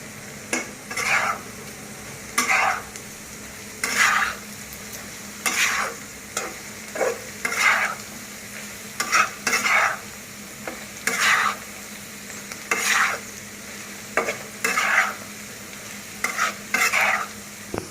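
Beef tripe fries slowly for a bhuna while being stirred in a pan, regular spatula scrapes about once a second over a constant gentle sizzle, close and clear with no voices.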